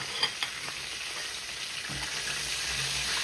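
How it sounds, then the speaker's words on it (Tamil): Spices fry in hot oil for hotel-style sambar, a steady close sizzle that grows slightly fuller toward the end, with a couple of sharp utensil taps near the start. "இது கொஞ்சம் பொரிஞ்சுட்டு தான் இருக்கேன்"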